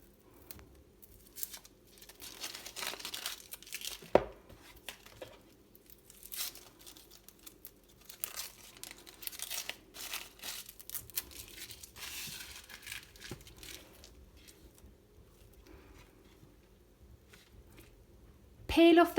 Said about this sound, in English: Peel off the papery skin until you get the shiny onion underneath.